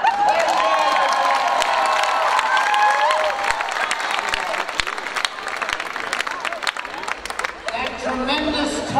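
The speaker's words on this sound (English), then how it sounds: "there has to be a general round of applause for Tay's portrayal of Tobin Hawk" School homecoming skit night crowd breaks into loud applause and cheering after a performance, a dense burst of clapping with shouts that thins into scattered claps and crowd chatter near the end.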